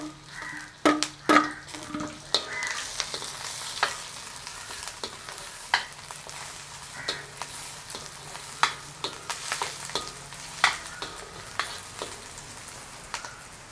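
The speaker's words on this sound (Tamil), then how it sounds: "வெங்காயம் வந்து கொஞ்சம் போய் கொண்டு வரட்டும்." Onions sizzle and fry in a pan for a mutton curry, a steady crackling hiss broken by repeated stirring scrapes and clatters of a utensil against the pan, with no voices.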